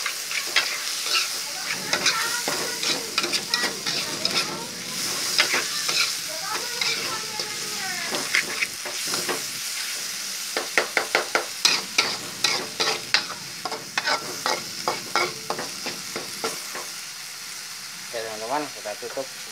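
Cassava leaf stir-fry sizzles in a pan while a utensil stirs and scrapes it, rhythmic clattering strokes building toward the end over a steady frying hiss.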